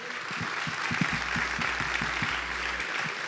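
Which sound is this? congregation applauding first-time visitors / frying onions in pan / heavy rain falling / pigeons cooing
congregation applauding first-time visitors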